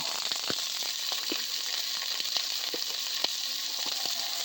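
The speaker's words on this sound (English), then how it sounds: "You always want to hear that sizzle" Orange, red and green peppers searing in olive oil in a hot pan: a steady, close hiss of frying with scattered small pops and crackles throughout, no talking.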